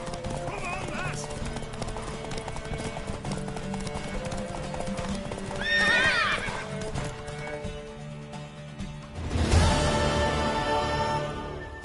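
Galloping horse hooves clip-clopping in The Witcher 3, a steady rapid rhythm throughout with a loud whinny near the middle and another neigh toward the end, set under game music and character voices talking.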